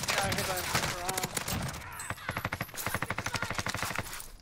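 Rapid automatic gunfire from Call of Duty Warzone rattles in a fast, evenly spaced burst during the second half, while voices talk over the game beforehand.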